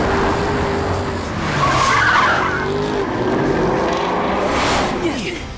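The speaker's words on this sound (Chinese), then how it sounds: "油门踩到底，" A race car's engine roars as its tires skid and squeal across the track during a race, a loud, close, sustained screech rising and falling over several seconds, with no talk.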